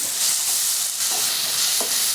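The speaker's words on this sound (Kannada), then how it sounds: "ಈಗ ಒಗ್ಗರಣೆ ಕೊಡಕತ್ತಾರ್ರಿ" Bright, hissing sizzle of spices hitting hot oil, steady and close, with a couple of light scrapes from stirring.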